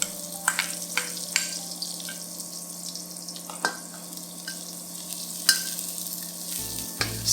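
Chopped spring onions and garlic crackle in very hot oil with the heat turned off, a soft steady sizzle broken by sharp pops and occasional utensil clicks, close and fairly quiet, with no voices.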